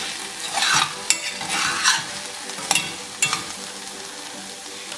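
A spoon scrapes and stirs okra curry in a hot pan, producing swishing strokes and a few sharp clinks against the pan over a soft frying sizzle.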